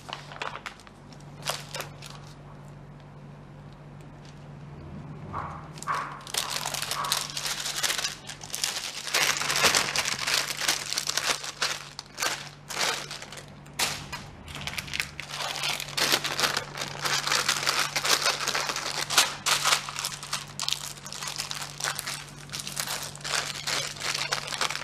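A food storage bag being folded to push the air out, a long run of close plastic crinkling and crunching that comes in bursts with short pauses, with no talk.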